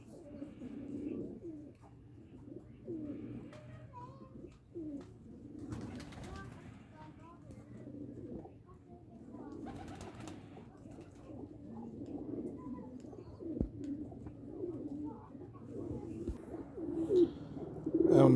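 Pigeons in a loft keep up a low, throaty rolling coo with repeated soft phrases, fairly close and continuous, while someone talks over them for much of the time.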